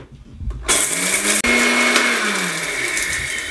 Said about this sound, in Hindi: ऊपर से कवर लगा देंगे, दरदरा सा पीस लेंगे।